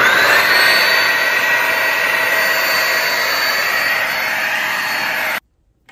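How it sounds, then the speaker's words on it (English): A Bissell steam mop with its vacuum function running gives a steady, loud, close whooshing motor drone that holds for about five seconds and then cuts off abruptly, with no talking. "If you want to turn the vacuum back on, you can just click the button."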